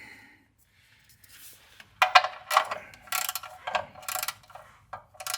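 Ratchet clicking in short bursts as it snugs an oil drain bolt tight under a Toyota 4Runner, several quick close runs of ticks separated by brief pauses.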